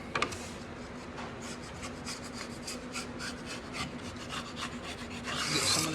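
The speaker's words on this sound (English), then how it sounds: "just run a chisel down through both of the grooves just to clean them up a little bit" A chisel scrapes along grooves cut in wood for a sliding-lid money box, giving a steady close-up rasping and rubbing with repeated short strokes and a slightly louder burst at the end, no talking.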